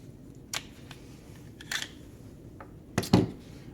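A Glock pistol slide being taken off during detail stripping, heard as a few faint metallic clicks and a sharper double snap near the end, close by and quiet.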